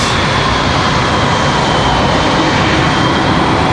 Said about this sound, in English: Republic Airways 4596 was our last touchdown there.